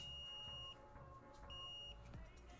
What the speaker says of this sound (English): It's beeping.